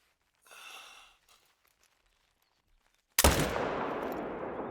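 A rifle shot fired at a tiger in theHunter: Call of the Wild booms out suddenly and loud, followed by a long rolling echo that fades slowly; a faint breath or sigh is heard earlier, before the shot.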